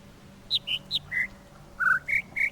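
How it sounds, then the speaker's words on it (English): Two birds calling at once, as bright, clear chirps and whistles in quick succession, close and distinct over a quiet low hum. "There's two birds at once."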